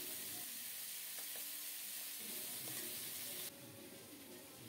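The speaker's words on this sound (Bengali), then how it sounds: "কাঁচকলাগুলো হলুদ লবণ মাখিয়ে মাছের সাথে দিয়ে দিলাম। মাছের মতোই লাল লাল করে ভেজে নেব।" Green plantain pieces coated in turmeric and salt fry alongside fish in a pan, giving a dense, loud, continuous sizzle close up with occasional stirring scrapes and no talking.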